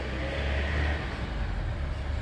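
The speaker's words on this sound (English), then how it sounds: "Traffic is busier today." Steady road traffic rumbles past nearby, a continuous broad wash of car and engine noise with a low, even drone and no pauses.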